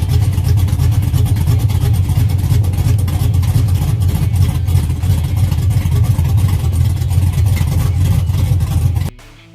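Chevy 5.3 liter LS V8 junkyard engine running, a loud, steady, deep rumbling idle with a constant throb that cuts off abruptly at the end.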